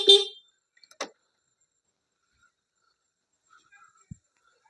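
A single short, bright Honda Activa scooter horn beep sounds at the start, followed by faint clicks and near silence.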